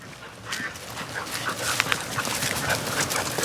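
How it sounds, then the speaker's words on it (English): A puppy on a leash, out walking alongside a dog named Ransom on a farm, gives a few soft whimpers and pants amid rustling movement, close to the listener. "That puppy might be training Ransom how to walk"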